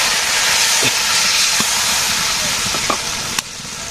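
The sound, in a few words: water added to hot cooking pan, hissing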